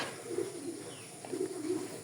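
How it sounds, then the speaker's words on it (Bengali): Red checker racing pigeon giving soft, low cooing calls, several murmured coos in a short sequence, faint and close against a quiet background. "একদম বরাবর সরাসরি এই একটা পেয়ার কবুতর।"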